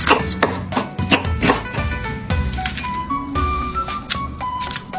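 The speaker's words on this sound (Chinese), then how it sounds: "把该切的切一切。" A knife chops ingredients on a cutting board for a chicken wing dish, a Chinese New Year recipe, with brisk, steady, close knocks repeating in a quick rhythm.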